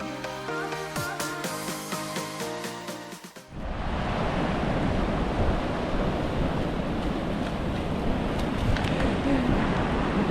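Ocean surf and breaking waves at a Mexican boatyard coast, a steady loud wash of broadband noise with wind across the microphone, arriving after a few seconds of music that cuts off abruptly.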